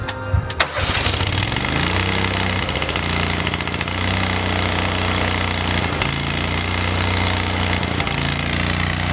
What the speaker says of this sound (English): we're about to do a cold start